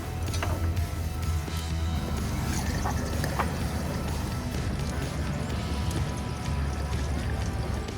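Steady rushing water noise fills the whole stretch, a continuous low flow with faint knocks and clatters, as water is turned back on and runs through household plumbing pipes.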